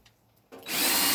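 A power drill spins up from quiet, starting briefly and then rising into a loud, steady whir that runs to the end, in a homemade washing machine setup.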